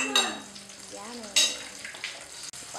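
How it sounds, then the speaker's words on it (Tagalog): Golden brown empanadas sizzle in a hot pot of oil, with a bright continuous frying hiss and a couple of sharp stirring or utensil clinks, and a voice singing faintly in the background. "You put it there inside the hot pot of golden brown empanadas."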